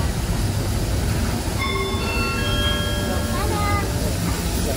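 A heritage steam railway train rumbles steadily with broad low noise, while squealing wheel tones rise and fall partway through; no clear speech.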